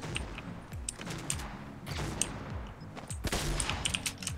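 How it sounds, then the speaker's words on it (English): Rapid bursts of video game gunfire in Fortnite, overlapping shots and fusillades at moderate distance, continuous across the stretch with a denser flurry near the end. "He's trying to shoot at our mat."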